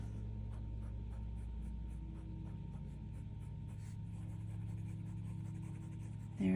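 A Pelikan fountain pen with a medium nib scratches across paper in soft, quick strokes, close and quiet over a low steady room hum.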